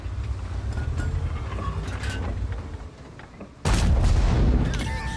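A tank cannon fires in the World of Tanks video game, one sharp loud boom cutting in abruptly after a stretch of low rumbling engine noise and faint mechanical clicks.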